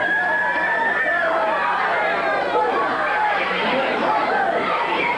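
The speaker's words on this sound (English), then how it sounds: "The crowd's roaring." A 1970s California wrestling crowd roars in a dense, continuous wall of shouting and cheering voices, loud and steady throughout with no single voice standing out.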